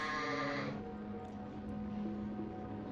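A sheep bleats loudly in an RPG Maker video game: one strained, wavering bleat that drops lower and trails on for a couple of seconds, heard alone without talk.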